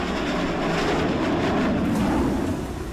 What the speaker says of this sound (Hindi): जेट इंजन की दहाड़ सुनिए। इस गड़गड़ाहट के साथ दोनों मिराज टेक ऑफ करते हैं